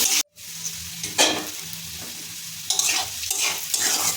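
Potatoes fry in hot oil with turmeric while being stirred, a close, bright sizzle broken by a short silence near the start and repeated scraping strokes of a spatula.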